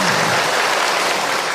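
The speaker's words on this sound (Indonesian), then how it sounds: "tepuk tangan buat orang Cilegon." A short burst of crowd applause at an Islamic religious talk in Cilegon, Banten, Indonesia, steady and dense clapping from many people, fairly loud throughout.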